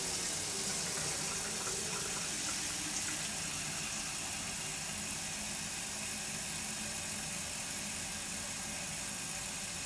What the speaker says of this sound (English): I'm gonna put this water down the sink